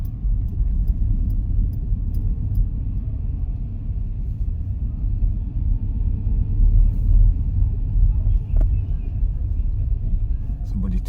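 A car drives steadily and carefully through Durham streets with pedestrians about, its engine a continuous low rumble close by, with a voice talking over it throughout.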